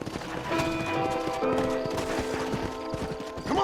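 Horses' hooves clip-clop at a gallop in the Western video game Red Dead Redemption, a steady close rhythm with a brief whinny and tonal game music running underneath.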